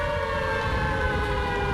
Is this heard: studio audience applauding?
no